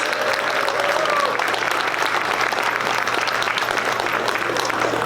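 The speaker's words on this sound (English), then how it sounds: "Let's give them all a big round of applause." Sustained applause from a large audience at an opening ceremony for an annual New Year celebration, a steady dense wash of clapping that holds evenly throughout without pauses.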